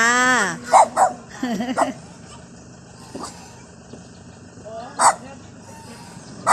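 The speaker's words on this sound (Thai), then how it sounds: "หมาเห่าจ้า หมาเห่าน้องหาน" A dog barks at geese outside a house, giving a handful of sharp, spaced barks and yips, with a person's voice heard briefly at the start.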